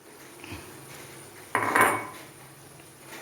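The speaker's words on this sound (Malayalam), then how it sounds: "പയർ ചേർത്ത് നന്നായിട്ടൊന്ന് ഇളക്കി യോജിപ്പിച്ചു" Green beans being stirred into a pan for olan, a Kerala dish, with faint metal clinks and then a brief scraping rush of spoon against the pan, all close and fairly quiet.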